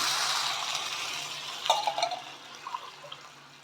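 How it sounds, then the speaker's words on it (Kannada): Water poured from a cup into a cooking pot while making vermicelli (shavige) upma, a short soft trickle and splash that rises after a quiet start and then tapers off, close by with no talking. "ಒಂದೂವರೆ ಲೋಟ ಆಗೋಷ್ಟು ನೀರನ್ನ ಆ್ಯಡ್ ಮಾಡ್ಕೋಬೇಕು ನೋಡಿ ಒಂದು ಲೋಟ ಅಷ್ಟು ಹಾಕೋತಾ ಇದ್ದೀನಿ"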